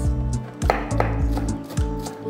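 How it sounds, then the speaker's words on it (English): A kitchen knife finely chopping spring onions, green chili and garlic on a board, a steady series of sharp thuds about every quarter second, close and clear with no talk. "So let's start with the fine chopping of our ingredients."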